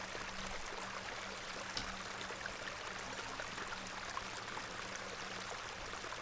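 Flowing water runs steadily as a soft, even stream in The Excavation of Hob's Barrow, a video game, heard alone as a continuous gentle rush without speech.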